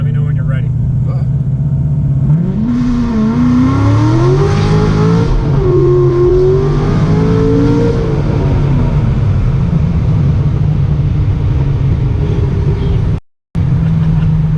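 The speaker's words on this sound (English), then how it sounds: "just do a first to second gear little pull to give you a sense of kind of what this car is capable of" A Chevy car pulls hard from first into second gear on a road, the engine note climbing steeply, dropping at the shift and climbing again, loud and close from inside the cabin, then cutting out abruptly near the end.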